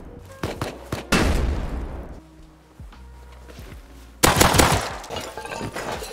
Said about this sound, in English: Oh, they're shooting them. They're shooting them.